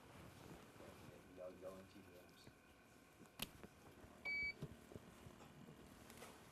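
A single short, clear electronic beep cuts through faint background noise and wind, with quiet talking around it.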